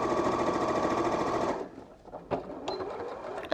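A sewing machine stitches a quilt block with a fast, steady mechanical chatter for about a second and a half, then stops, leaving faint handling noises.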